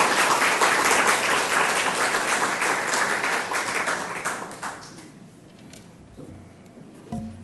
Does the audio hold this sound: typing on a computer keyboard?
no